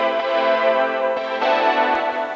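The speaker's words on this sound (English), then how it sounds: "So I added a nice little synth part here." A sustained, chorus-laden synth part in a chillwave-style synthwave track swells at its peak, with dense, bright chordal layers that shift slightly as new notes enter, playing steadily without voices.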